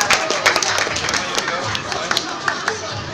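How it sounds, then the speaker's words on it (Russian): A crowd claps for award winners at a break-dance competition ceremony, a brisk burst of applause with sharp individual claps standing out over murmuring voices. "Еще раз аплодисменты."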